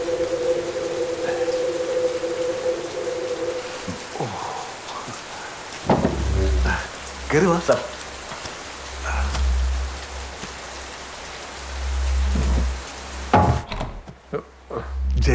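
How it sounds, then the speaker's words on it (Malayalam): Heavy rain pours steadily in the background with thumps and knocks nearby, while a voice speaks briefly. "നല്ല മഴ."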